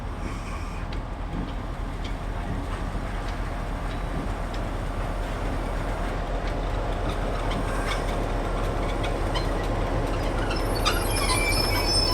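DC class diesel locomotives hauling container wagons along the Waitoa railway branch line, a steady low rumble of engines and rolling stock running continuously at moderate distance, with faint clicking of wheels over rail joints.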